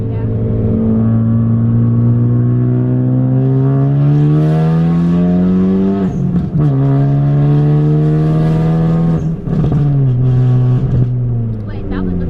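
A car with over 400 horsepower accelerates hard from inside the cabin, its engine note climbing steadily through the gears with brief dips at each shift, loud and close, while a passenger talks over it.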